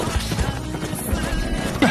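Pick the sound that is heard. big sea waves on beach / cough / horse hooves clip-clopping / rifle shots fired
horse hooves clip-clopping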